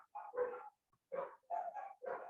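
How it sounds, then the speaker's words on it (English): Dogs bark in several loud, close bursts separated by brief pauses, some barks doubled in quick succession. "I'm sorry if you hate the sound of dogs."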